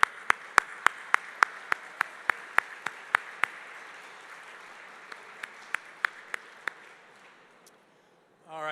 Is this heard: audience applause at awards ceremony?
yes